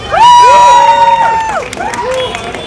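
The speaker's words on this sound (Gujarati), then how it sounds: "એકવાર તમારા માટે તાળીઓ થઈ જાય." A crowd at a Kathiyawadi thali restaurant inauguration cheers and whoops loudly, with high rising shouts and a burst of clapping toward the end.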